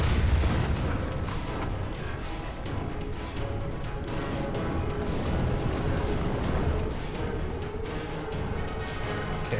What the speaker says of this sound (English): 5 shots from the shotgun?